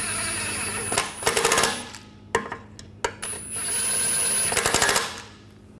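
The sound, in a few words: power tool tightening bolts on Audi A4 sway bar link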